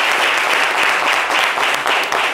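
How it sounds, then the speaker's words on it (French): A studio audience applauds in a brisk, even burst of clapping throughout the short stretch. "On va l'applaudir. Et applaudir son courage."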